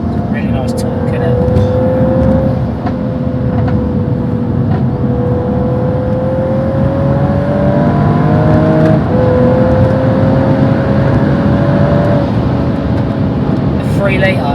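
A stage 2 BMW M135i with a 3-litre engine pulls hard under load, heard as a steady, loud drone whose tone climbs through the gears, with no distinct exhaust overrun pops standing out.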